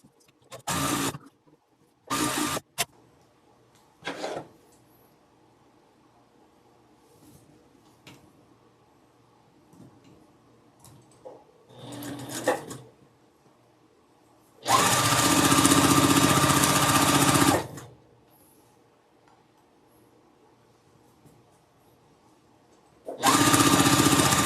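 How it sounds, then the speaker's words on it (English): A sewing machine stitches two quilt block halves together with a quarter-inch seam, running in short bursts and then in one long steady whir of several seconds, with quiet pauses between. "I'm going to sew along this edge here using a 1/4 inch seam"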